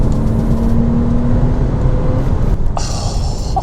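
A Porsche Boxster with its engine droning loud and steady from inside the cabin while driving, with a low rumble throughout and a brief shift in tone near the end.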